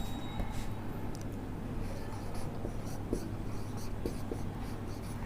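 Chalk or marker scratching across a classroom board in scattered short strokes, moderately near, over a steady low hum and faint room noise, with no talking.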